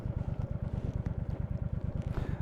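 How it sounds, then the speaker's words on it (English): A steady, rapidly pulsing engine rumble, close and loud, with a fast regular throb and some wind noise over it. "I hope this sounds good and you can hear the engine"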